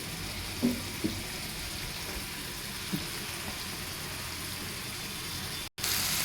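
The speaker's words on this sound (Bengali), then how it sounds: "এটা শুধু তেলের উপরে ভেজে নেব" Shrimp fry in oil in a pan with no added water, giving a steady, close hiss of sizzling with a few small pops and sputters throughout and no talking.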